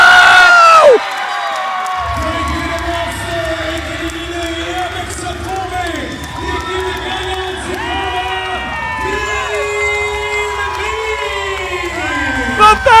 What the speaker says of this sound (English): The fans are cheering,